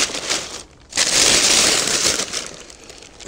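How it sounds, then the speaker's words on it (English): Plastic packaging crinkles and rustles in steady, close bursts, with a brief pause, as a hefty 11 kg carbon steel Smokerig barbecue plancha is unwrapped. "Let's unwrap it."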